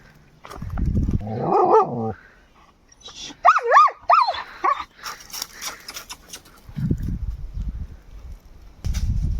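A female dog whimpers in high, wavering whines, eager for food, breaking into a few short barks close by, with scuffling and handling noises between.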